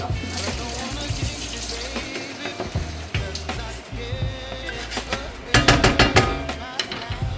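Pasta water pours and splashes into a hot pan of pasta and vegetables, sizzling and bubbling, with clinks of utensils and a louder burst of pouring near the end.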